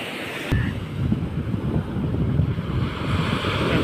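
Sea waves wash up on a beach in a loud, continuous rushing surge, heavily mixed with wind buffeting the microphone.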